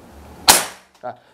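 A single sharp, loud shot from a Ruger AWM PCP air rifle cracks out, followed by a quick decaying tail and a brief fainter thump a moment later.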